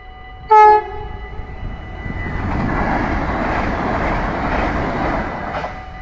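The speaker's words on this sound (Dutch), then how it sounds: "de eerste toeter hebben we ook weer in de pocket" A Dutch SNG train with a yellow front gives one short, loud, bright horn blast, followed by the rising rumble of the train rolling past steadily for several seconds.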